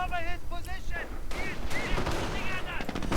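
Gunfire in a World War II strategy video game, a quick scatter of sharp shots and bursts over battle noise, with a voice talking underneath.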